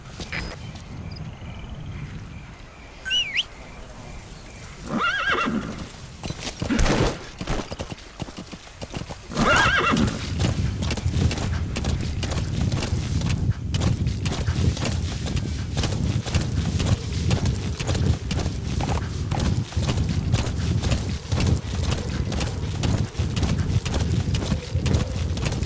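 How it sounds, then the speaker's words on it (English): A horse in the Metal Gear Solid 5 video game gives a couple of whinnies early on, then its hooves clip-clop in a fast, steady rhythm that grows louder and continues to the end. "Use your horse."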